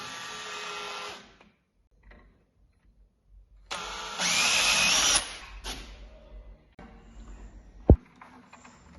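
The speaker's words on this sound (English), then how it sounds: "So now I'm going to drill the holes for the screws to keep the keep in place." A power drill bores screw holes for a door keep during a renovation of an old Italian palazzo in Abruzzo: one loud whirring burst up close, with quieter handling noises and a sharp knock around it.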